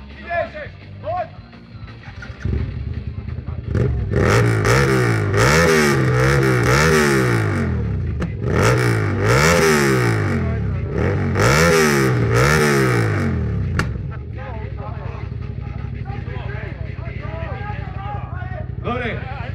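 Motorcycle engines revved repeatedly at a 2011 moto rally, several sharp rising-and-falling bursts close by, then idling, with people talking around it.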